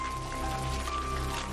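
Freezing rain falls steadily during a Montreal ice storm, making a dense, continuous patter that stays even throughout over a low hum, with no talk.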